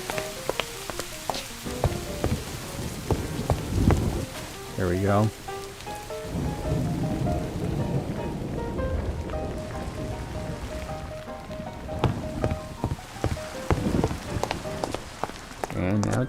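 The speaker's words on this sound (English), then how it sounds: "It's raining, but it's way too early" Rain and thunder in the video game New Londinium 1910: steady rainfall patters throughout while deep thunder rumbles roll in and out, with someone briefly speaking and scattered game tones over the storm.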